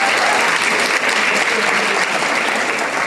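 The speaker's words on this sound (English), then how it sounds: "And thank you for clapping" Loud, steady clapping from an assembly audience, a thick wash of many hands that continues unbroken throughout, with no pauses.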